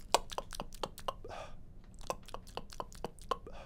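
A person gulps air by glossopharyngeal breathing: a rapid, close, uneven run of short wet throat clicks and gulps, with a few breathy rushes between them.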